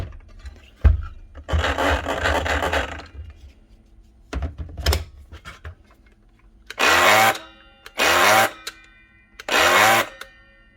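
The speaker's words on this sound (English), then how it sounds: "There's actually a track saw. Dewalt plunge saw, cordless. DCS 572 Type 1." Cordless Dewalt DCS572 plunge track saw, in need of repair, spinning up in short bursts: a long whirring run, a couple of brief thunks, then three clipped motor bursts in a row, close and fairly loud with quiet gaps.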